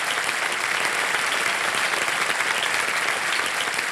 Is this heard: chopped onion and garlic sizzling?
no